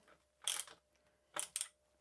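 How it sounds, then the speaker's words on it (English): A ratchet tightens the bolts on a 2018 27.5-inch Rockshox Pike fork, making two short bursts of quick clicking, quiet and close, with silence between. "All right, so then we'll grab our ratchet."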